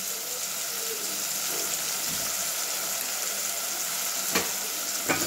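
Spices with salt and garam masala sizzle and crackle in a pan under a steady hiss, with a couple of sharp metallic taps of a stirring spoon near the end, no talk.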